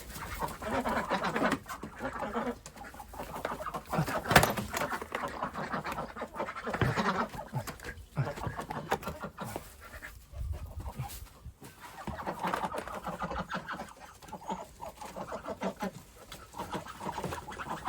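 Ducks eating duckweed close by, a busy stream of quacks, wet splashing and pecking that runs on without a break.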